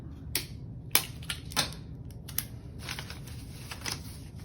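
Tape is pulled and wrapped around a paper fan handle in a few short, sharp ripping bursts, close and fairly quiet against a soft background hum.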